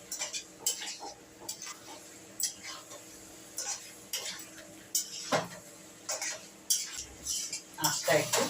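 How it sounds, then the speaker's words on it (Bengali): Cauliflower florets and potatoes being stirred in a pan over gentle heat, with repeated clinks and scrapes of a spatula against metal at an uneven rhythm, fairly close, with no talking. "এটাকে কিন্তু আস্তে আস্তে কষতে থাকবেন"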